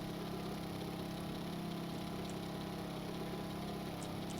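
A steady, droning engine hum from the Hummingbird, a fast, efficient custom-built vehicle in the game Stormworks, runs evenly throughout with no voices over it.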